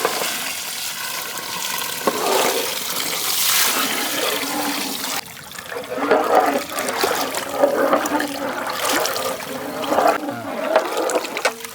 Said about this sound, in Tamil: கறி வேகிறதுக்கு தண்ணி